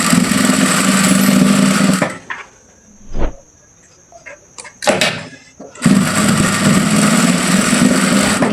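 A sewing machine stitches a kapron fabric panel for a dress hem or sleeve design, running in two long, steady, loud whirring bursts. A quiet pause with a few small knocks and clicks separates them.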